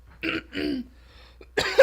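A few short, harsh coughs come in separate bursts with brief pauses between them, close and fairly loud.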